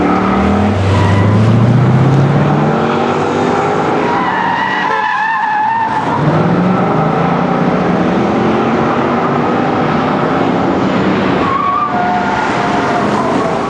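A Mercedes-AMG car lapping Laguna Seca race track during a driving academy session, engine droning steadily and loud throughout with shifting pitch sweeps and tire skidding through corners, a brief lull near the middle.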